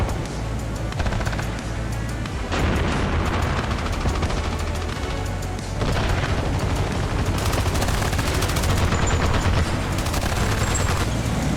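Dense tank and ATGM gunfire in Armored Brigade II, a T-72 and M60 battle, with steady rattling bursts and heavy booms that continue loudly throughout and never let up.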